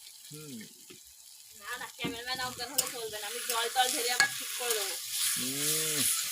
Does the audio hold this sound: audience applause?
no